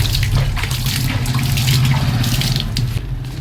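Steady running water washing a mat, a continuous full splashing rush with no pauses, close by and fairly loud throughout.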